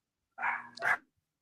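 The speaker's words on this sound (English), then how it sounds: "whose dog's barking?" A single dog gives a quick double bark, the two yaps close together and somewhat distant, followed by silence.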